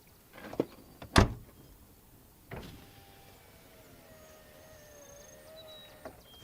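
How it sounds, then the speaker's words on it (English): The power window of a 1998 Toyota Corolla hums upward after a regulator repair, a steady faint motor whine running several seconds after a few sharp thumps and clicks from the door. "For the first time in about a year and a half or more, I can roll up my window."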